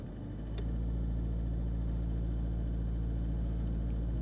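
A van's engine idles with a low, steady rumble that swells in the first half second as the RPMs rise, then holds a constant drone close by.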